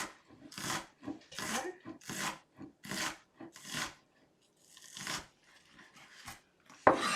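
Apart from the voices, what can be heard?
cutting onion with a knife on a board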